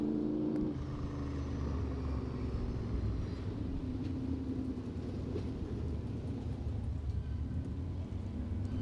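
A race car engine rumbles steadily at Claremont Motorsports Park, a continuous mid-distance drone of an oval track stock car that stays fairly even throughout with a dense low roar.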